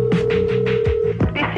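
Telephone dialing effect from a radio station's listener call-line bit: a steady tone runs beneath a string of short, rhythmic beeps and clicks, then cuts off, followed by a few more rapid tones.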